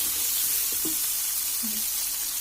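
Brinjal cooks in a pan with a little salt, giving a soft, steady sizzle with a couple of faint stirring clinks, quiet and close.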